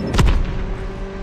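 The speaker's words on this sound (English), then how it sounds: "Friendly airstrike incoming." Explosions from a friendly airstrike in Call of Duty Mobile ground war multiplayer: one loud, booming blast with a short rumbling tail over steady game background noise.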